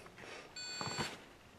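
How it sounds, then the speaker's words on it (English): Thyron PayCellMPT 500 wireless card terminal beeping, a steady electronic tone that holds for about half a second and rises over quiet background noise and faint handling sounds. "No need to beep at me that much."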